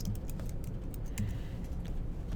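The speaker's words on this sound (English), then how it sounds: "I can now type in my title." Rapid, soft clicking of fingers typing on a computer keyboard, quiet and close, with irregular bursts of keystrokes and no voices.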